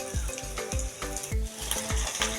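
Raw mango pieces frying in hot oil for a homemade pickle, a constant sizzle broken by regular, rhythmic scraping strokes of a spoon stirring in the pan, close and clear.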